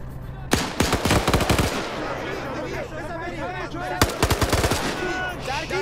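A firing squad opens fire in a survival video game: two rapid volleys of gunshots ring out, separated by a stretch of talking, with a voice also speaking over the gunfire.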